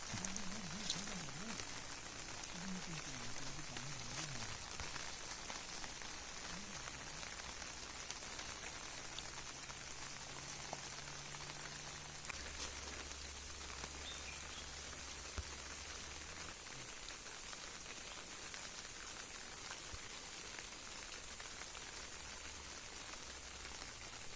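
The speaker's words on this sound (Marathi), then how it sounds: "पाऊस पण येतोय" Rain falls steadily and softly outdoors on a rural plot where cashew saplings are being planted, a constant faint patter throughout with no voices.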